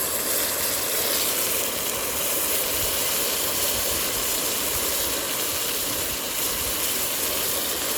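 MSR XGK EX liquid-fuel stove burning turned down low to a simmer, a steady close hiss and faint roar that holds unchanged throughout with no talk.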